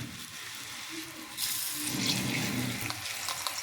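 A paratha is laid into hot white oil on a griddle. A soft hiss swells into a louder, steady broadband sizzle that continues to the end.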